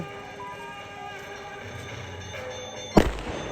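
A single firecracker goes off with one sharp, loud bang near the end, following a few seconds of steady background murmur and festive crowd noise at an outdoor celebration.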